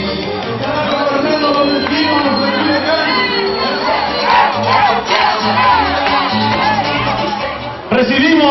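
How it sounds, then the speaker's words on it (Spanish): Crowd at an outdoor municipal campaign rally, loud sustained cheering, shouting and chanting from many voices with clapping mixed in, dense and close throughout, dipping briefly near the end before swelling again. "recibimos con un muy fuerte aplauso a nuestro candidato y próximo presidente municipal de Culiacán, Sergio Torres."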